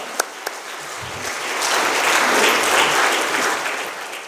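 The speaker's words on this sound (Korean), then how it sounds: "큰 박수로 감사하십시다." Church congregation applauding during a Wednesday women's mission society dedication service: a couple of sharp early claps, then a broad wash of clapping that swells to a steady peak and holds, fairly close and full.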